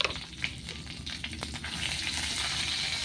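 Cinnamon, bay leaves and chopped ginger sizzle in mustard oil in a home kitchen, opening with a few stirring clatters before settling into a steady, close frying hiss with no speech.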